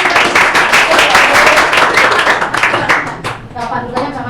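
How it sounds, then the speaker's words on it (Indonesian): Participants in a group session burst into loud, close applause, dense clapping that thins toward the end as individual claps stand out, with voices mixed in. "Oke, tepuk tangan teman-teman."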